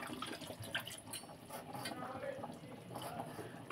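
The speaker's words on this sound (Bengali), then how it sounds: "এতে একটু সামান্য জল দেব।" A small splash of water is poured into a tomato fish curry cooked in mustard oil, a soft watery trickle and bubbling amid busy kitchen clatter.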